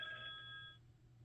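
A telephone rings faintly in a quiet room, one brief ring that cuts off partway through.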